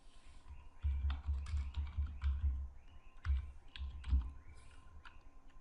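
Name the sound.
typing on a computer keyboard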